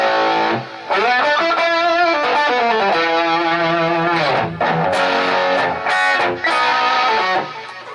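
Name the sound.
electric guitar through Egnater Tweaker amp with effect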